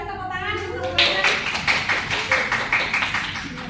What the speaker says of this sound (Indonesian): Betul sekali, tepuk tangan untuk Bu Ellen